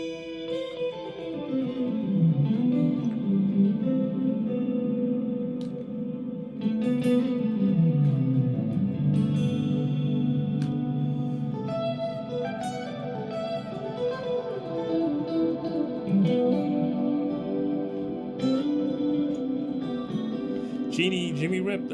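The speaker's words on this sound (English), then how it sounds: "I'm not a big reverb fan unless it's a huge reverb for an effect." Music drenched in a huge reverb effect, with sustained, echoing tones and long washed-out tails smearing across about twenty seconds, loud and continuous.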